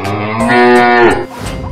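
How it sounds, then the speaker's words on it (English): A cow lets out one loud, close moo, a sustained tonal low that swells and then cuts off, followed by a short grunt. "cow"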